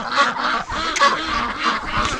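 A flock of female breeding ducks in spring quack loudly and continuously, with overlapping honking calls close by and no pause in the noisy chatter.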